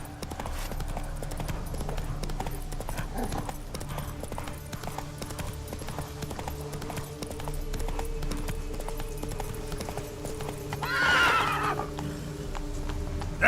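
Roach the horse from The Witcher 3 gallops with steady, rhythmic hoof clip-clops over a low rumbling background, and a short whinny rises near the end.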